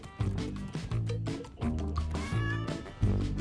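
A cat meows repeatedly in a series of close, strained, tonal cries spaced through the moment, loud against a faint background with no talk over it.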